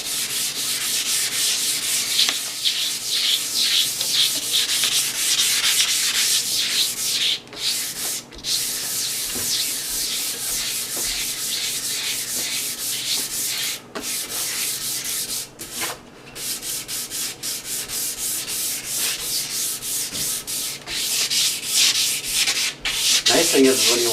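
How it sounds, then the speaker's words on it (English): Steady rhythmic wet sanding with 600 grit sandpaper on an antique 1930 Kohler cast iron sink, rubbing back and forth continuously with a few brief pauses, close and fairly loud. "Now I'm switching to the 600 grit, and I'll just continue doing a light sanding now"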